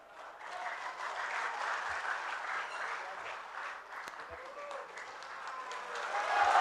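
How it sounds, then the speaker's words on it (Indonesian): Audience applause at a public debate between regency head and deputy candidates in PALI regency, a steady broad wash of clapping that holds throughout and swells toward the end, with a few soft voices beneath. "Tepuk tangan yang meriah."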